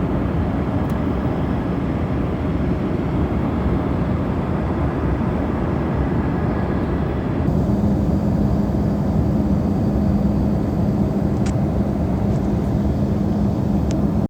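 Steady broadband cabin roar inside an American Embraer E170 airliner in cruise, a constant dense rumble with a low hum that shifts slightly partway through, with no talk.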